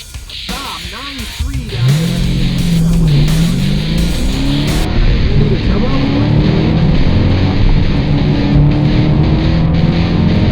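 Car doing a line-lock burnout, front brakes held while the rear tires spin, engine roaring loud and steady with high tire squeal and wavering revs, continuous and close throughout.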